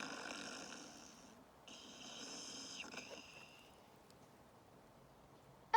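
A storyteller imitates a bear snoring, a soft drawn-out rasping breath sound in a few long pulls, quiet and close with nothing else behind it.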